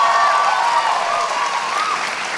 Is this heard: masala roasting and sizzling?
no